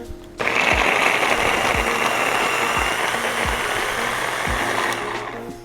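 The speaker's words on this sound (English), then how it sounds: "We're gonna put this back on top and give this a blend or a puree until it's nice and smooth." A food processor blends chickpeas and olive oil into hummus, a loud steady whirring motor that starts abruptly and runs for several seconds with faint rhythmic knocks, then cuts off.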